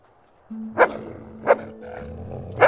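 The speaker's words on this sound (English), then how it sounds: "There's a nice uh, angry stray dog." A video-game stray dog in Fable 2 snarls angrily, with three sharp growling barks spaced about a second apart over a low rumbling growl, close and clear.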